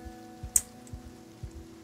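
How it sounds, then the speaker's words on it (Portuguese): Light rain patters steadily in the Project Zomboid video game with wind blowing, a soft continuous wash broken by a few low thuds, quiet and without talk. "Nossa, agora tá chovendo e tá ventando."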